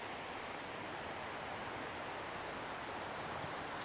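A waterfall near a fishing pier and boat-launch area makes a soft, even rushing hiss that stays constant throughout, fairly faint and without voices.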